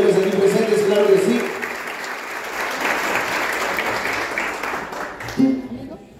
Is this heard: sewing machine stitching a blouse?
no